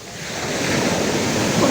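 Sea waves washing onto a beach at Gazipaşa, Turkey, a steady, broad surf roar that swells gradually, with wind buffeting the microphone and no talk.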